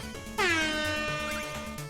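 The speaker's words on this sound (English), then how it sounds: "Air horn." A loud air horn in a video game blares once, sliding in pitch as it starts, then holds its brassy tone over a quiet looping game tune in the background.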